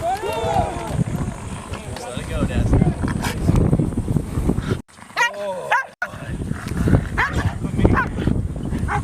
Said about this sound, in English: Oh, he's my dog!